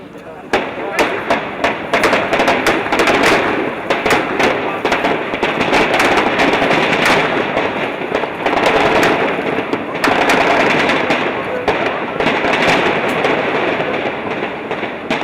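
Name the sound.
explosions and heavy gunfire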